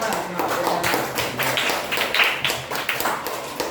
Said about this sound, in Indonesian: tepuk tangan untuk semangat